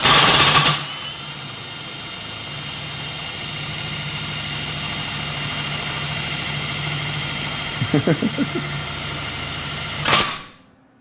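A bare engine crankshaft fitted with balance masses spins on a test bench with no other load, giving a steady, loud mechanical hum that starts abruptly, holds for several seconds with a brief rattling flutter near the end, then cuts off.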